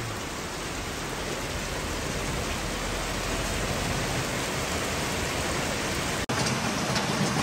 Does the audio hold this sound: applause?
no